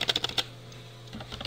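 Quick keystrokes on a computer keyboard come as a short burst of soft, close clicks, then a pause, then a few lighter taps, all fairly quiet in a calm room.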